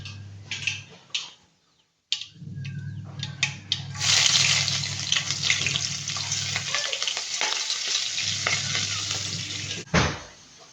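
Mustard seeds crackle and spit in hot oil in a pan, a continuous sizzle peppered with quick pops, briefly interrupted by a pause and clatter.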